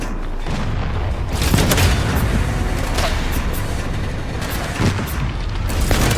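Continuous booming gunfire and explosions from the video game Resident Evil 9, dense and loud throughout with repeated sharp blasts layered over a rumbling low end.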